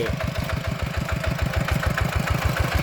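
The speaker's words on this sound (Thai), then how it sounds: "เทคโนโลยี เป็นเครื่องมือทันสมัย ในการไถนา ก็คือรถไถนั่นเองนะพี่น้อง" A tractor engine plowing a rice field runs with a steady, rapid chugging beat close by, holding an even, loud rhythm throughout with no voices.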